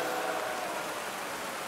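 Steady rain falls across a golf course during a professional tour event, a continuous broadband hiss of drops heard close and alone with no voices.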